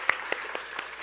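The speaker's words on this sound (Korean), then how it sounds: "축복의 박수를 한번 보내주겠습니다." A church youth-service congregation gives a brief round of scattered applause, with five distinct claps in quick succession, fairly faint and close.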